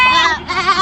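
Goats bleat close by after a pick-up truck carrying sacrificial goats overturned from a burst tyre on the Ngawi–Kertosono toll road, a loud, wavering cry with a brief dip midway.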